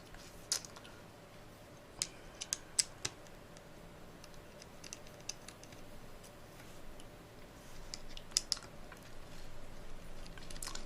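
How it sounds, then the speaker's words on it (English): Small screws being taken out of a Samsung S20 Plus phone, giving faint, scattered tiny ticks and clicks over quiet room noise, with no talking. "Take these screws out as well."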